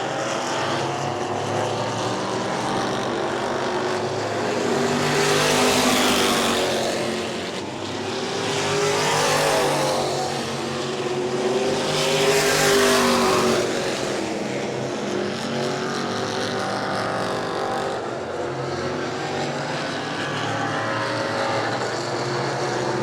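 E-Mod race cars roaring around the New Smyrna track, engines droning loudly and continuously as several cars sweep past in swelling waves, with the sound rising and falling as they go by.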